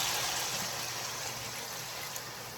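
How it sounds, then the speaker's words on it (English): Water pours steadily into a pot of sauerkraut soup, a continuous close splashing hiss with no voices over it. "I'm gonna add a little bit of water."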